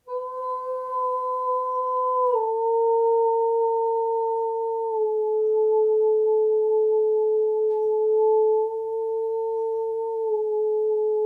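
A steady high-pitched sine tone with a faint overtone holds for about eleven seconds, stepping down slightly in pitch a few times and staying smooth, clean and constant throughout.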